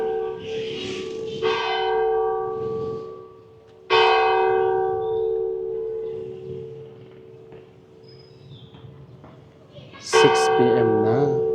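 Municipal hall bell in Mauban, Quezon, ringing loud and close, three strikes with long resonant decay, people chatting softly between the tolls.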